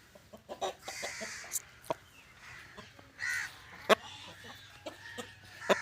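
Aseel chickens in a village yard, a hen with young chicks among them, give scattered clucks and short calls at close range, mixed with other bird calls and sharp outdoor noises.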